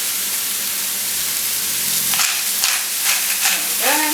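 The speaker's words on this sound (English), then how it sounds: "Alright, so as you can see, I'm just quickly frying that up." Spinach with salt and pepper fries in a hot pan, a steady close sizzle and hiss with brief stirring scrapes and a faint bright clink near the end, no talking.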